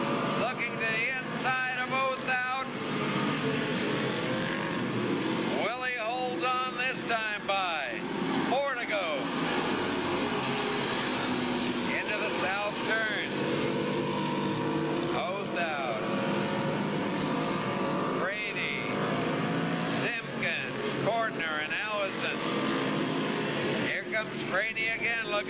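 Street stock race cars run at Santa Maria Speedway, their engines roaring steadily at a distance beneath a loud announcer calling the race over the whole stretch.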